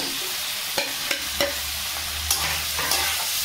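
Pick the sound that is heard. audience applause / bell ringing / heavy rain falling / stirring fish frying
stirring fish frying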